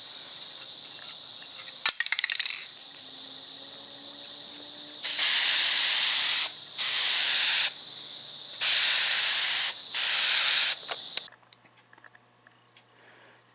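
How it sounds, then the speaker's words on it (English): An aerosol can sprays gloss black paint onto frame parts of a Standard Gauge American Flyer electric toy train. Four steady hissing bursts of about a second each come close up, preceded by a few small clicks and rattles. "I'm just going to give them a quick spray with some gloss black paint"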